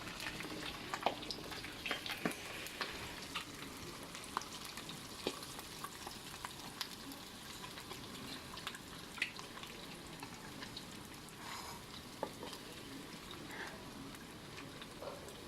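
Chicken pieces dry-roast with salt in a wok, giving a soft, steady sizzle broken by light scraping and stirring clicks, faint and close, with no voices.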